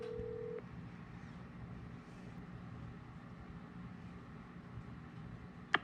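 A phone call rings out unanswered and goes to voicemail, with a short electronic tone at the start and another beep at the end over a low, steady room hum. There is no talking.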